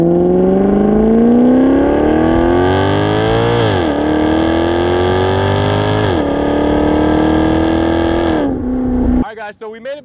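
A 2018 Maserati GranTurismo convertible engine pulls loud and close, revs climbing steadily through several gear changes with brief dips between shifts, before easing off as a voice begins speaking at the end.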